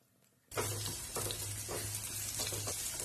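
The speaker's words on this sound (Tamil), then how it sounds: "எண்ணெய் கொஞ்சம் சூடாயிடுச்சு. இப்ப இந்த வெங்காயம் போட்டுக்கலாம்." Sliced onions hit hot oil in a pan for egg kothu noodles, bursting into a loud, steady sizzle after a brief quiet start, with a few soft stirring clatters over the frying hiss.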